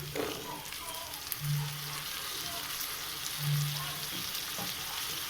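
Soaked peas sizzle in hot oil in a pan while veg biryani is cooked, a steady close frying hiss with a couple of soft low hums over it.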